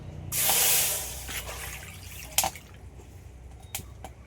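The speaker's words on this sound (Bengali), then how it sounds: "ডাল সিদ্ধর জন্য কড়াইতে জল দিয়ে দেবো" Water is poured into a kadai for boiling lentils for a sour dal, a brief splashing rush followed by a few scattered drips and clinks, close and alone.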